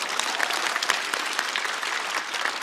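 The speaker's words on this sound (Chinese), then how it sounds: "掌声鼓励一下。" A studio audience at a comedy roast show claps in a dense, even burst of applause, close and loud, lasting the full stretch without talk.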